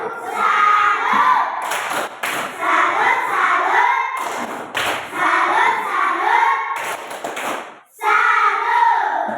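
A group performs an Indonesian salute clap (tepuk salut), clapping together in a patterned rhythm while voices chant and shout along, loud and lively throughout.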